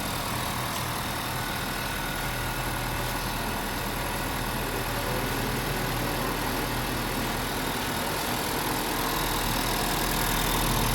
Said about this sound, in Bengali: গাড়ির ইঞ্জিন স্মুথনেস যথেষ্ট পরিমাণ ভালো